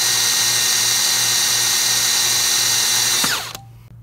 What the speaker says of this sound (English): Another 30 seconds of drilling time.